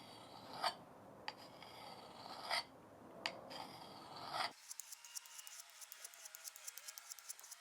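An old axe blade being sharpened by hand on a wet stone, with slow rasping strokes and a few louder scrapes, then a quicker run of short, faint rubbing strokes close by.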